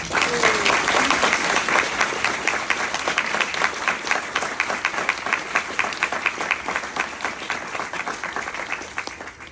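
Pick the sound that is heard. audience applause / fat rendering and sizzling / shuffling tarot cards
audience applause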